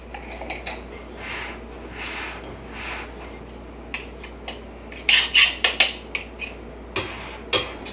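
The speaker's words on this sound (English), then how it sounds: "Give it another stir." A utensil clinks against a bowl as gluten-free biscuit dough is stirred, with soft mixing noise followed by several sharp, close clanks.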